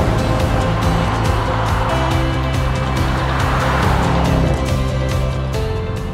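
A Range Rover Sport drives along the Pacific Coast Highway, a loud steady engine drone with rhythmic road thumps heard from inside the cabin, with no speech.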